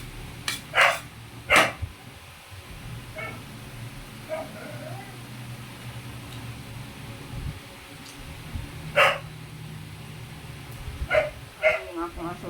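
A dog barks in a few sharp, separate bursts at a Filipino home meal, fairly close, with people talking and low background noise in between.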